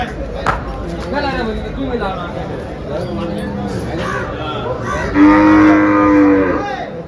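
Cows lowing at the Dhule cattle market, several moos rising through a steady wash of crowd chatter and someone talking nearby, with one long, loud moo near the end.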